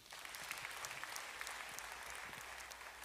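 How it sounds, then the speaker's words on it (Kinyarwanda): A church congregation claps together in sustained, dense applause that holds steady throughout, fairly distant and even in level. "reka dukomere Imana amashyi."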